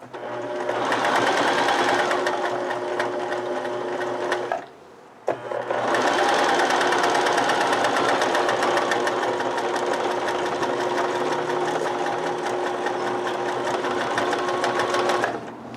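A domestic sewing machine stitches through fabric at high speed, a loud steady whirring hum with a regular mechanical chatter, briefly stopping near the five-second mark before running on continuously.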